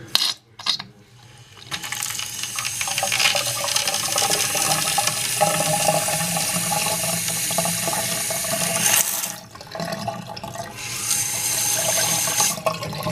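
Tap water blasting debris out of a line in a basement bathroom, a loud continuous rush after a brief sputter, dropping out briefly near the end before surging again.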